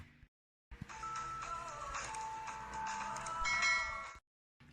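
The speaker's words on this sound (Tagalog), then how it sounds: "kalimbang nyo yung bell na katulad nito" A bright chiming notification bell effect rings out alone, a cluster of clear tinkling tones sustained for a few seconds between moments of silence.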